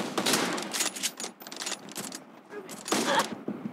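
Shotgun fire in the mobile video game PUBG Mobile, a series of loud, close blasts in an uneven rhythm across a few seconds, with a voice talking at points.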